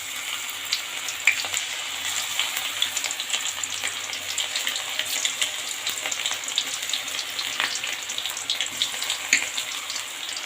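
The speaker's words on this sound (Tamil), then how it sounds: "இப்போ நம்ம மிக்ஸ் பண்ணி வச்ச பாவக்காய் வந்து ஒன்று எடுத்து போட்டு பொரிச்சிக்கலாம்" Bitter gourd slices deep fry in hot oil, a dense, steady crackling sizzle with small pops, close and continuous, with no talking.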